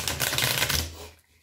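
A brief, rapid flurry of crisp papery clicks as tarot cards are shuffled, close and fairly loud, stopping abruptly.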